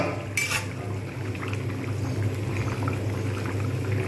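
Fish roe fritters, made from katla roe, simmer in curry in a pan, giving a steady low bubbling with faint clinks of utensils, with no talking.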